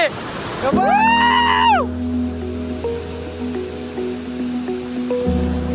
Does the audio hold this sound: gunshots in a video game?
no